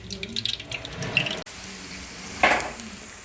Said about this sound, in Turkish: Şimdi ilk önce soğanlarımı ve ardından biberlerimizi kavuracağım.